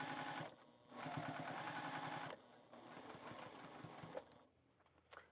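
A sewing machine stitches in loud, rapid bursts, stopping and restarting several times, close up, with a quieter mechanical hum between runs.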